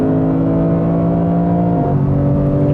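A 2016 Lexus GS F in S Plus mode pulls hard under acceleration, its engine a loud, close, steady droning roar that drops in pitch with a sudden gear change partway through, then keeps pulling.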